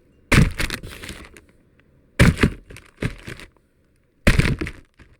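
A glass mason jar is dropped and shatters three times in a row, each impact a loud sharp crash with a tinkling scatter of shards that fades over about a second before the next.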